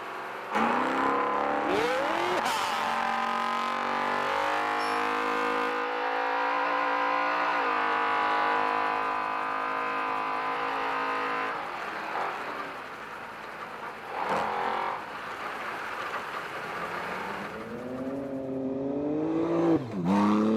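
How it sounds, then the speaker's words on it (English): A Geyser Brothers trophy truck races in the Finke Desert Race, its engine roaring loud and close, revving and shifting through rising pitch sweeps before surging again near the end. "South Aussie armed with a new Geyser Brothers trophy truck."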